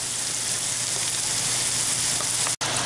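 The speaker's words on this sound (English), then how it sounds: "now I'm going to saute my vegetables until they're soft" Chopped onion, bell pepper and celery sauté in a hot pan, giving a dense, even sizzle that holds close and steady before a brief dropout near the end.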